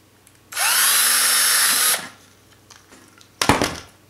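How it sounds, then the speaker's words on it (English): A power drill fitted with a countersink bit bores into the chocolate-covered structure of a sculpted boot cake, a loud steady whine of about a second and a half followed by a short burst of clattering handling noise. "this countersink works absolutely perfect"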